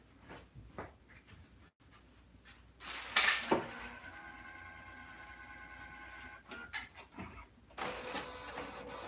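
An Epson P600 inkjet printer prints, with a sharp mechanical whir and clatter at the start, then a steady motorized hum of the moving print head that continues, with light clicks, for several seconds.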